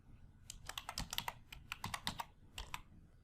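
Quick bursts of keystrokes on a computer keyboard, close and crisp, with short irregular pauses between clusters of taps.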